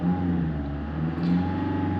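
A Range Rover Evoque engine held at about 2,500 RPM during a diagnostic check for an ABS fault, giving a steady, even drone that stays at one pitch throughout.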